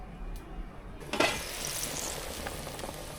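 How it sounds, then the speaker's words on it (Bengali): A thin broth made with fresh koi fish comes to a boil in a pot. It gives a steady bubbling hiss, with a brief louder clatter near the start. "বলক চলে আসছে।"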